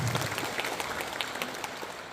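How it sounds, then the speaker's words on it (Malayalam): An audience applauds Nishad Kanjoor at a health club's 100-day celebration, a dense, steady wash of clapping from many hands filling the whole moment at even loudness. "അദ്ദേഹത്തിന് വലിയ കൈയടി കൊടുക്കുക"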